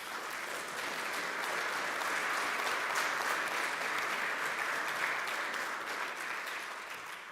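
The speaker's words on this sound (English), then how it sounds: "Ladies and gentlemen, one more round of applause for Gunter Pauly." Steady, dense audience applause for speaker Gunter Pauly at a conference morning session, with no talk over it, holding an even level for about seven seconds before easing slightly at the end.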